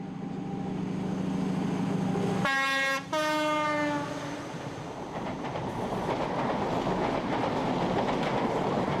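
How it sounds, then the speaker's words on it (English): A high-speed train from Leeds climbing Dainton Bank roars past at speed, its two-tone horn blasting twice, followed by a rising rush of rumbling wheels and wind. "keeping pace as the train from Leeds climbs Dainton Bank"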